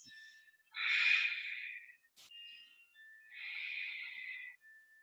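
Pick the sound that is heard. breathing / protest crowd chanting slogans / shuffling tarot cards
breathing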